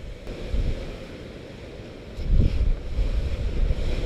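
Strong wind and waves at a lakeside camp: steady blustery roar against the microphone, with waves washing in and swelling louder midway, no voices.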